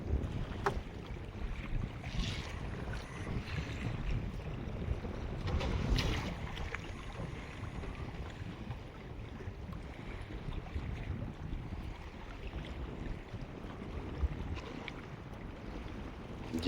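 Strong wind buffets the microphone at sea on a small fishing boat, a constant broadband rumble with gusty swells and occasional knocks, faint and steady throughout.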